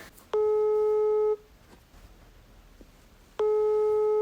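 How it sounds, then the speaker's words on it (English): Two loud, steady electronic German telephone busy-signal tones, each lasting about a second, separated by a longer quiet gap, with no talking. "this is what the German phone sounds like"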